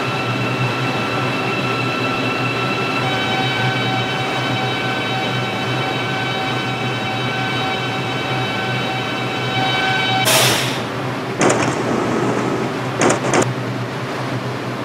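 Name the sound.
New York subway line 6 local train, from Subway Simulator video game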